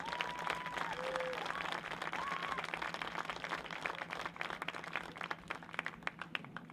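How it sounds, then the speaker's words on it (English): Applause for a high school homecoming court at a football game, a distant, thin crowd clapping outdoors with whistles, rising into sharper nearby claps toward the end under a low steady hum. "please give a warm round of applause to the 2020 Biglerville High School Homecoming Court"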